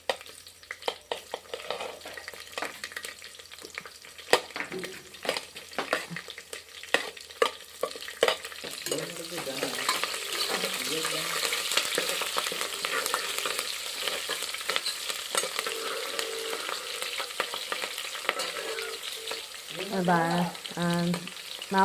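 Green chillies stir-frying in a pan for peas pulao, a steady loud sizzle with scraping and stirring strokes throughout, close up, with brief murmured talk near the end.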